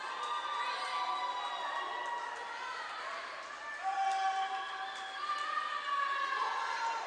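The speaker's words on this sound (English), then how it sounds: "Lots of great sportsmanship here from both sides as they cheer on the Apollo swimmers." A crowd at a swim meet cheers on the Apollo swimmers, a continuous mix of shouting and whooping voices with some children's calls, echoing in an indoor pool hall at moderate distance.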